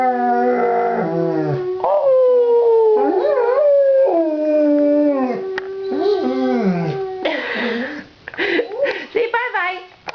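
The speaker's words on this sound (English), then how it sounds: "You hear that dog singing?" An old dog howls in long, rising and falling tones, loud and close, while a person coaxes it and talks to a child between and over the howls.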